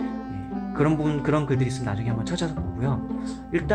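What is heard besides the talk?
None of the usual background noises is heard.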